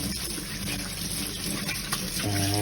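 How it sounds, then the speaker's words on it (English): Kitchen tap water runs steadily while hands are rinsed before cooking, a continuous close hiss and splash that grows slightly fuller near the end. "Then you just have to open the water, make sure we rinse,"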